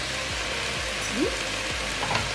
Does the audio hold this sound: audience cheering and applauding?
no